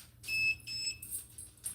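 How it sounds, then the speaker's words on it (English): A device emits short high-pitched electronic beeps near a dog, with two or three bright tones in quick succession, fairly loud and close, with no voices. "she thinks that beep means that she's done something wrong"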